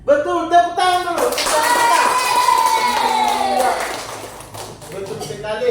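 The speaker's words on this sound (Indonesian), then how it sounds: "tepuk tangan dulu" A classroom of students claps along with cheering and children's shouting during a lesson on Islamic teachings, a busy burst of hands mixed with raised young voices that tapers off toward the end.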